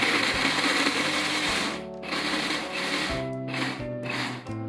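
Bird's eye chilies and red chilies ground in a blender make a loud, continuous whirring grind with brief pauses and shifts in pitch as the motor runs in bursts.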